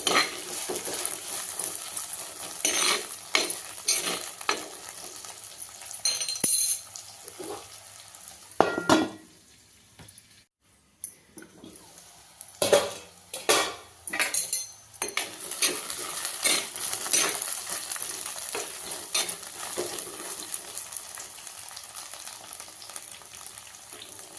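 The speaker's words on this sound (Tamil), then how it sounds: "கொஞ்சம் கிளறி உள்ளாங்க இன்னும் கொஞ்சம் வேகட்டும்" A spoon stirs eggplant thokku in an oiled pan, with a continuous soft sizzle broken by irregular scrapes and light metal clinks, one brief near-silent pause midway, and no talking.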